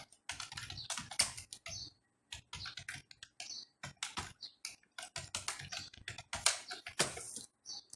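Someone types an email address on a computer keyboard, a rapid, close clatter of key presses arriving in uneven bursts with brief pauses between them, and no voices heard.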